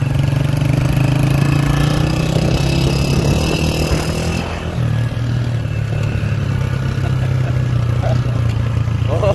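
Motorbike roaring past another bike at high speed on a village road, a steady loud engine drone with a brief shift in pitch midway as one passes the other, close and continuous throughout.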